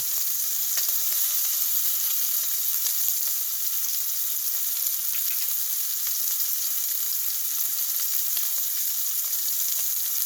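Garlic fries in a pan for a Japanese steak bowl, giving a steady, dense sizzle that holds at an even loudness the whole way through with faint crackles and no voices.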